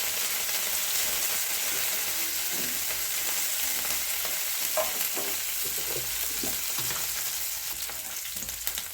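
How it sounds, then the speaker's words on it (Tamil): Curry leaves and chopped coriander sauté in a hot pan for a Chettinad-style stuffed ridge gourd gravy, giving a steady close sizzle broken by occasional stirring scrapes, with no talking. "சேர்த்துட்டு நல்லா வதக்கிக்கலாம்."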